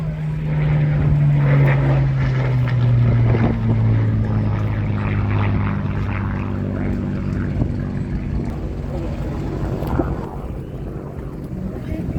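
Loud Merlin piston aircraft engines roar past close by at the RIAT 2022 air show, a deep droning growl whose pitch slowly drops as they pass, with wind buffeting the microphone.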